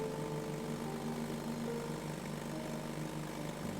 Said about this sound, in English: if I held the choke out on the pony motor, it would stay running